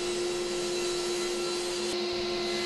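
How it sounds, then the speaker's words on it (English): A SawStop table saw fitted with an Irwin Marples 50-tooth blade rips through poplar just over an inch thick, making a loud, steady whine and roar of motor and cut that holds throughout without any voices. "This is a rip cut in poplar that's just over an inch thick, and it walks right through there like butter."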